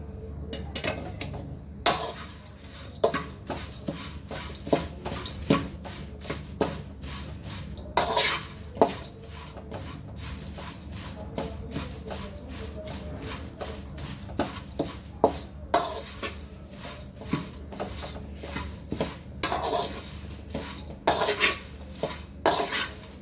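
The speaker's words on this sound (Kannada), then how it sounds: "ಈಗ ಸ್ವಲ್ಪ ಅವಲಕ್ಕಿನ ಹಾಕ್ಕೊಂಡು ಲೋ ಫ್ಲೇಮಲ್ಲಿ ಇವನ್ನ ಹುರಿಬೇಕು" Flattened rice (avalakki) being stirred and roasted in a pan on low flame, with repeated sharp scrapes and clinks of a spatula against the metal pan at an uneven rhythm, close up and without talk.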